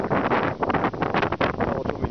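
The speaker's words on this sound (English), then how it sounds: "It's windy today" Gusty wind blowing hard against the microphone outdoors, loud buffeting roars and rumbles that surge and drop irregularly throughout, with a voice partly underneath.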